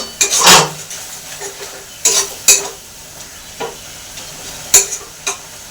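Spice masala being stir-fried in a pan in a home kitchen, with sharp, irregular scrapes and clanks of the spoon against the pan over a soft, steady sizzle.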